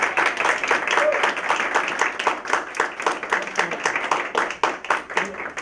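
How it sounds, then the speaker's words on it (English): Rhythmic, steady clapping from a school audience honoring winter concert performers, a room full of hands beating in loose unison throughout. "let's have everybody who performed today stand up for one more round of applause"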